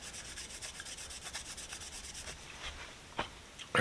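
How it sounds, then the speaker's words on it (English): A Scotch-Brite pad loaded with number 7 polishing compound scrubs a metal 1/4-inch socket in steady back-and-forth strokes, a close, dry rubbing sound with a couple of sharper knocks near the end. "I'm starting off with this number 7 and a Scotch-Brite just to get the funk and the gunk off it."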